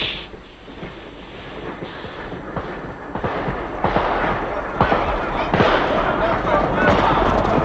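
Gunfire in a film duel aboard a train, with a series of sharp shots and bursts growing denser toward the end over rumbling train and action noise, with voices mixed in.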